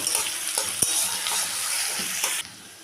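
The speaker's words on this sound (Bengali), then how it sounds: "তেলটা গরম হয়ে গেছে দিয়ে দিলাম দুই কোয়া রসুন ছোটো করা একটা ছোট সাইজের পেঁয়াজ কুচি করা একটু ভেজে নেব" Two cloves of chopped garlic and a small chopped onion frying in hot oil, a close, steady sizzle with a few soft stirring scrapes, cutting off abruptly near the end.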